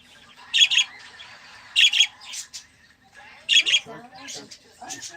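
Several bursts of bird chirps and squawks, close and fairly loud, come in short clusters with brief pauses between them; a person talks faintly underneath.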